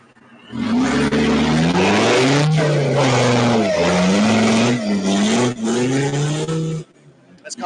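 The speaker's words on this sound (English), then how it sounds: "That's car number 9 just coming across the finish line." A rally car in Wales roars past at speed on a rally stage, engine revving loudly with rising and falling pitch as it shifts, then fading abruptly as it goes.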